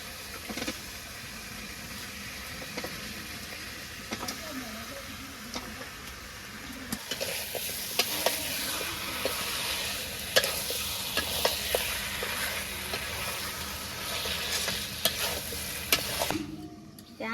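Meat frying with chili in a village kitchen pan makes a dense, continuous sizzle with stirring scrapes and clicks, growing louder midway and cutting off near the end, no one talking.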